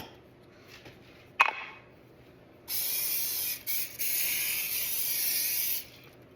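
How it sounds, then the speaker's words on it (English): A sharp click, then a loud cooking spray can hisses onto a pan for about three seconds, pausing briefly once before continuing. "I am going to go ahead and spray the pan with this."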